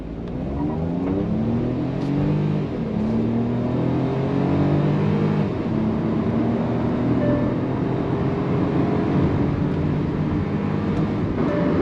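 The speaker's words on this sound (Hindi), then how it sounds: "I'm going to accelerate from a standstill. I'm going to sprint from a standstill." A 2022 Hyundai Venue N Line pulls away hard from a standstill, its engine and tuned exhaust rising steadily through the revs from inside the cabin, a continuous loud drone with no talking.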